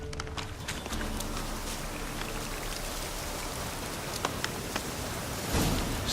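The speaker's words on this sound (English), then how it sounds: "Looks like rain." Steady rain pattering on surfaces in The Witcher 3, with a few sharper drip taps over the dense, even hiss and a horse's hooves clopping faintly underneath.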